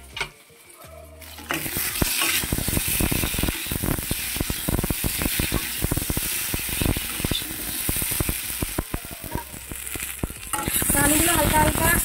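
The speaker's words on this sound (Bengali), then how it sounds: "আলুগুলো হালকা হালকা লাল লাল করে ভাজা করে নিয়েছি" Potatoes fry in a hot pan for a pumpkin seed curry, giving a steady loud sizzle with scraping stir strokes throughout, after a brief quieter start.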